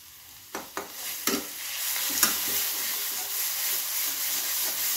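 Ground spices frying in oil in a pan for an okra and morola fish dish, a few sharp clinks of stirring at first, then a loud, steady hissing sizzle that holds to the end without talking.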